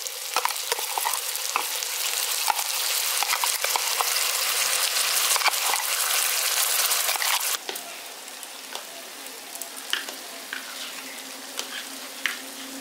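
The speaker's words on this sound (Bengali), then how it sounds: "এবার ভালো করে মিশিয়ে নিচ্ছি, দিয়ে হালকা একটু ভাজা ভাজা করে নিচ্ছি" Steady crackling sizzle of mustard paste frying in a pan with occasional stirring clicks, loud at first, then quieter after the gas is turned low.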